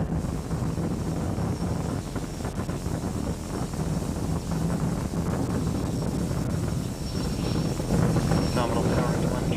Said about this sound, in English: The rocket is reaching the sound barrier within 1 minute